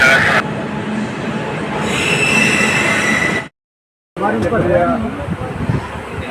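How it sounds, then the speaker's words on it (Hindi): A train pulls into a railway station with loud, close rumbling and squealing wheels, and voices can be heard over it. The sound drops out briefly before the rolling and talk resume. "ट्रेन आ गई यहाँ पर"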